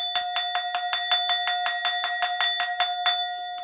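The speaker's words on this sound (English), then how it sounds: "Something makes me want to ring the bell when I say that" A small bell rings rapidly about fourteen times in a steady ding-ding rhythm, bright and clear with ringing overtones, close by and alone.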